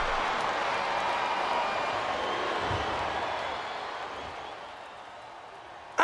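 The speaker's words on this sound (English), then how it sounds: "Now the fans start to cheer for him." A wrestling arena crowd in the Smackdown vs Raw game cheers and roars steadily, a broad continuous wash of noise that slowly fades toward the end.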